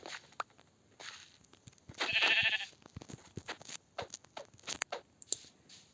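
A single short sheep bleat in a video game rises briefly amid scattered clicks and small tapping noises, with no other sounds around it.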